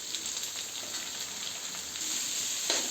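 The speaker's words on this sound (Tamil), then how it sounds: "வெங்காயம், பச்சை மிளகாய் போட்டு வதக்கிக்கலாம்." Onion and green chilli sautéing in a pan for chicken fry, a steady close sizzle with soft crackles running throughout, slightly louder toward the end, no voices.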